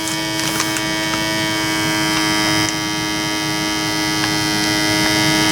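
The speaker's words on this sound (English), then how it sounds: "This little vacuum thing come with these bags. It actually works pretty good. It's pretty quick." A small vacuum sealer pumps air out of a bag that came with it, giving a steady, loud motor hum with a constant tonal drone that runs unbroken through the whole stretch, with no talking.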